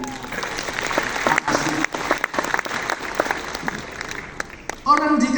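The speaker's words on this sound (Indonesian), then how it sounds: "Tepuk tangan untuk ibu" An audience at a congress opening claps for a woman, scattered irregular claps over a crowd murmur, with a voice cutting in near the end.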